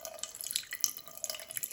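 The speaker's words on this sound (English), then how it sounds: "add water in here. Just because you don't want the mince to stick." Water pours into a cooking pan for homemade chicken dog food with mince, a faint, steady patter and trickle with small splashes and drips, close by and without speech.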